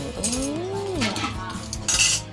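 Plates and cutlery clink and clatter as they are picked up at a food stall serving Thai rice noodles, close and fairly loud, with several sharp metallic chinks and a brief tonal scrape.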